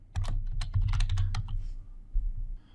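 Someone types a subdirectory name for an FTP server folder on a computer keyboard, a fast close run of clicky keystrokes with short pauses and no talk.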